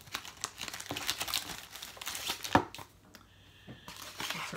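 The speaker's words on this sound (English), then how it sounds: "Try to get the envelope open" A paper envelope holding a greeting card is torn and crinkled open in quick, uneven bursts of crisp rustling and ripping, close by and fairly quiet.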